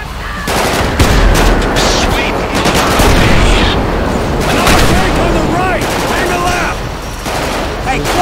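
Loud, sustained automatic gunfire in GTA 5 during a bank robbery mission, rapid overlapping bursts and shots filling the scene, with voices talking underneath.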